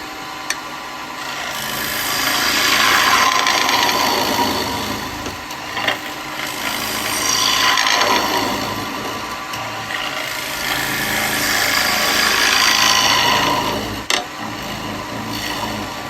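Wood lathe turning a wooden cowboy hat, a gouge pushed in point-first toward the middle to set depth; a steady close scraping, rasping hiss of the cutting tool over the spinning wood with a motor hum beneath, swelling and easing as the cut moves.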